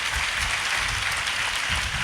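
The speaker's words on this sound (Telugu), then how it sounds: "చప్పట్లు కొట్టండి గట్టిగా ప్రభుకి." A church congregation at an all-night worship gathering claps loudly and steadily, a dense, continuous wall of applause filling the room without pause.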